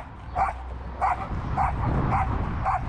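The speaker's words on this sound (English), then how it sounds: "angry dogs" Angry dogs bark repeatedly behind a fence beside a busy road, five evenly spaced barks at moderate distance over steady traffic rumble.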